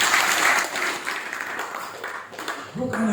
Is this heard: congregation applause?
yes